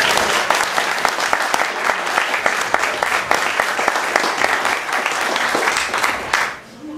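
Wedding guests applaud the bridesmaids during a reception speech, a dense, steady burst of clapping from a crowd that carries on for several seconds before tapering off at the end.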